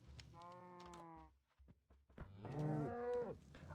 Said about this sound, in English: Damn cows are real annoying.